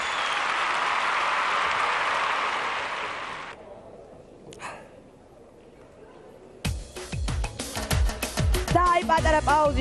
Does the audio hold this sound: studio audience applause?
yes